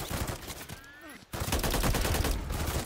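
Rapid automatic gunfire from a hard-kicking rifle in Modern Warfare III rattles in dense loud bursts, cutting out briefly for a short pause before resuming in a sustained, booming stream.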